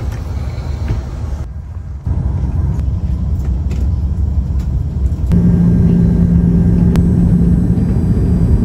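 Steady, loud low rumble of an airliner cabin waiting before takeoff, a broad engine and air-system drone that thickens partway through with a hum added, no talking.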